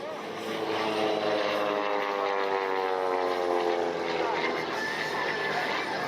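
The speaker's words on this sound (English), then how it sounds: "He's got that very powerful Lycoming engine aboard the Pitts Special. Very distinctive sound to it." A Pitts Special aerobatic plane with a powerful Lycoming engine flies at an airshow in Akron, Ohio, its propeller drone holding a steady buzzing tone with shifting pitch, moderately distant, while an announcer talks over it.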